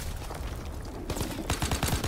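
Gunfire crackles in Call of Duty WWII, rapid bursts of automatic shots in quick succession that grow denser and louder toward the end amid busy battlefield noise.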